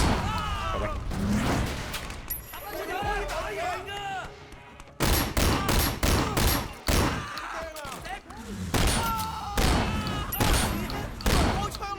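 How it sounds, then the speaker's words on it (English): Repeated gunfire bursts in the open-world action game Sleeping Dogs, with sharp shots cracking in clusters and rapid volleys, loud and close, alongside intermittent talking. "I don't trust this bit, so I do shoot those enemies."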